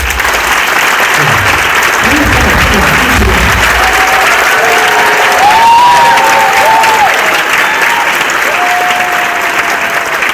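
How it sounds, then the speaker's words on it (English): Loud, sustained applause from an audience at a physician assistants' induction ceremony, honoring the parents and guardians, with some crowd murmur and a few voices mixed in throughout. "Shall we give them a thunderous applause?"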